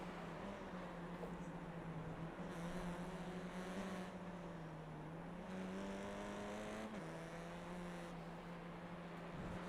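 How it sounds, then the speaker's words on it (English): A GT4/TCR race car laps Virginia International Raceway, its engine holding a steady, distant droning note that dips and rises through the corners, faint under a constant broadband wash with no talking. "See JB's car moving around"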